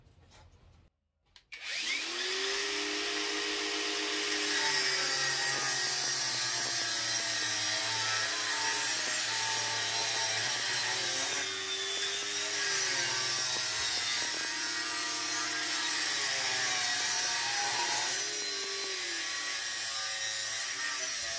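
A Parkside Performance cordless angle grinder with a 4 Ah battery spins up after a short pause, then cuts metal with a loud, sustained high-pitched whine that dips slightly under load several times.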